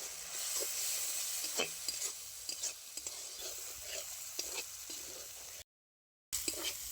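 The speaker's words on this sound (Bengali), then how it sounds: "মশলা খুব ভালো করে কষিয়ে নিয়েছি।" Spice paste with a splash of water and turmeric sizzles and fries in a pan while a spoon stirs it, a steady close hiss broken by soft scraping clicks, with a brief dropout near the end.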